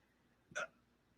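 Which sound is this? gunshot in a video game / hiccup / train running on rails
hiccup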